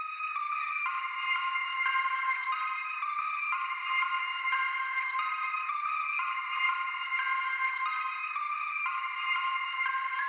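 A bright synth melody plays on its own, thin and high with no bass, its notes smeared by a wide, washy reverb.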